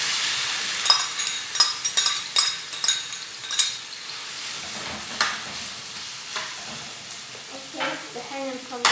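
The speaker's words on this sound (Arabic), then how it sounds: "حطينا زيت. دحين نحط بصل وجنزبيل وثوم اللي خلطناه." Onion, ginger and garlic frying and sizzling in hot oil for keema biryani, with a steady hiss broken by repeated clinks and scrapes of a spoon stirring the pan, close and fairly loud, no voices.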